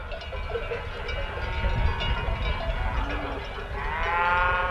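A herd of loose cattle grazing on a mountain pasture through the summer lows repeatedly while cowbells clank steadily throughout, a dense, continuous outdoor mix of moos and ringing metal.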